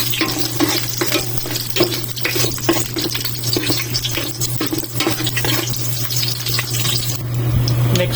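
Garlic sautéing in a pan at the start of cooking native chicken tinola, a steady close sizzle with scraping stir strokes and clinks of a utensil against the pan throughout, with a continuous low hum underneath.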